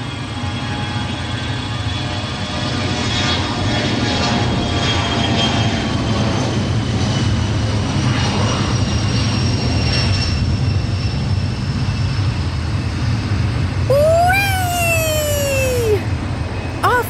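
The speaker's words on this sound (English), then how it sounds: "Control Tower to Jet Girl, you are cleared for takeoff on runway 2." Jet airplane taking off from a runway, a loud sustained engine roar with rising whine tones, joined near the end by a brief high sweeping effect.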